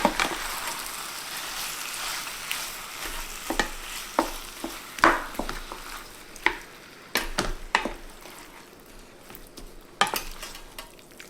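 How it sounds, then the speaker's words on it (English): Spicy sauce stirred into a sizzling pan of steak fajitas, a continuous frying hiss broken by repeated scrapes and knocks of the utensil against the pan, close and fairly loud with no voices. "let's stir that in here"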